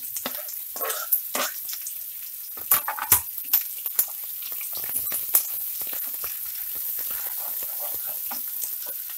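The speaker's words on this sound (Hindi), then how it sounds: "ये हम साग के लिए तड़का तैयार कर रहे हैं।" Onion, ginger and green chilli frying in hot oil for a saag tadka, a steady soft sizzle with sharp crackles and pops scattered through, close and fairly quiet.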